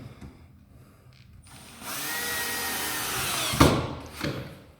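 A power drill drives screws into the back panel of a Neptune Grand wardrobe, its motor whining steadily for a couple of seconds after a quiet start, ending in a couple of sharp knocks.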